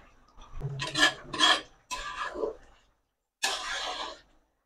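A pot of dal with home-grown pui shak (Malabar spinach) is covered, with several short metallic scrapes and clinks of the lid against the pot, a pause, then one last rasping scrape.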